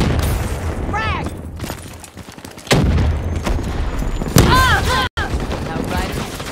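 Frag grenade blast in Call of Duty Black Ops 3 multiplayer, a loud booming burst amid continuous gunfire and game effects, with a player talking over the action.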